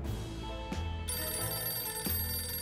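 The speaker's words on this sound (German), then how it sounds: "Es klingelt ein Telefon." A telephone rings in the video game 60 Seconds Reatomized, bright repeated bell bursts over a low droning game backdrop, loud and steady with no talking.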